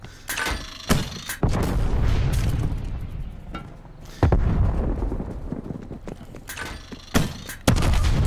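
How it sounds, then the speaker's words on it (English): Sharp, loud explosive blasts from the Cold War shooter game, several sudden cracks and booms spaced across the clip, each followed by a short rumbling decay. "Throwing frag grenade."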